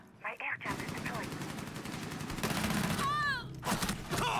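Shotgun and other gunfire in a competitive team tactical shooter match, a busy run of repeated shots with a short loud burst near the end, under continuous game noise and occasional voices.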